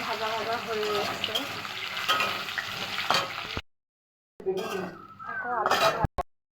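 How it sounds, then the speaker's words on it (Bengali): Potatoes sizzle and fry in a pan while being stirred, with scraping and clinking of a utensil against the pan; someone talks over it, and the sizzling cuts out briefly before resuming. "আলুটা ভাজা ভাজা হয়ে এসছে।"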